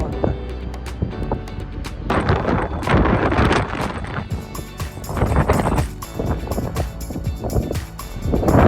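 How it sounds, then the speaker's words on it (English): Strong wind buffets the microphone at the Cliffs of Moher on Ireland's coast, coming in loud, irregular gusts of roaring rumble that rise and fall across the whole stretch. "Blown away by the wind."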